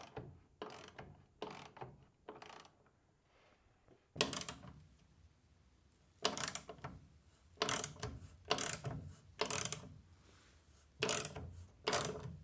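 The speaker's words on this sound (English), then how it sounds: "So now I'm just going to use my socket and tighten this nut, and it's gonna pull this flat, hopefully." A socket wrench ratchets a nut tight on a restored Porsche floor pan, the pawl clicking in repeated close bursts, a few brief ones and then longer steady runs of clicks with short pauses between, no voices.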